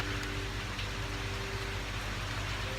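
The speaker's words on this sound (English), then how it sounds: "It's raining." Rain falls outdoors on a dreary afternoon, a soft, steady hiss of drops with a low hum underneath, faint and continuous with no voices.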